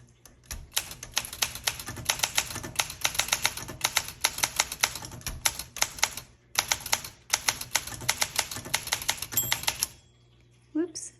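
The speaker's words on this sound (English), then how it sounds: "My bell went off, so I'm gonna keep going this time to show you what happens if you do." Rapid keystrokes clack on a 1966 Olympia SM9 manual typewriter, steady bursts of close, crisp typing with brief pauses, ending in a small ring of the margin bell before the keys stop.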